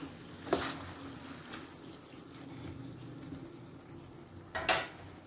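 Curd is stirred into a radish-leaf mixture in a pan, giving a faint, steady wet sizzle with two sharper scraping clatters of the spoon.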